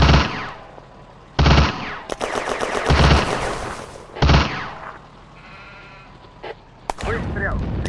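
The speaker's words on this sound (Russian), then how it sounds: "По нам открыли огонь!" Video game firefight with bursts of gunfire and machine-gun fire, sharp loud shots in clusters separated by short gaps, mixed with shouted voice lines from soldiers.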